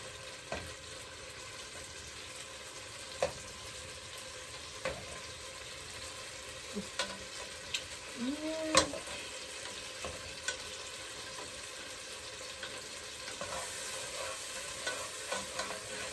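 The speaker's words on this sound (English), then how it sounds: "Just keep stirring them and mashing them." Beans are stirred and mashed in a pot for a jackfruit veggie chili: quiet, soft scraping under low simmering noise, with scattered light taps of the utensil and one short squeak.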